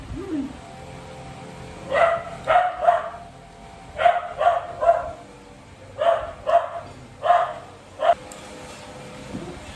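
A dog barks in short bursts of two or three, pausing between groups, fairly close and loud over a quiet background.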